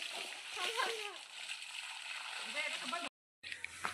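Water splashes and washes over the ground as a tree is watered, a continuous spattering hiss joined by faint background voices, then a brief cut to silence before the splashing resumes.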